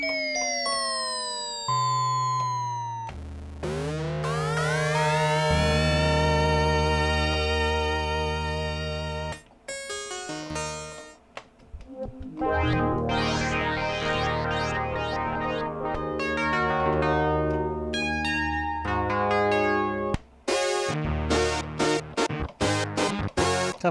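Memorymoog analog synthesizer playing preset 84, a loud, strange patch of bright sweeping tones that glide up and down like sirens, with sustained chords, abrupt cutoffs and rapid pitch bends across a long passage.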